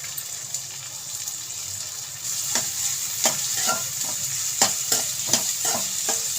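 Capsicum, carrot and beans are stir-fried for veg fried rice, a steady sizzle in the pan broken by repeated sharp scraping strokes of the spatula toward the end, close and alone.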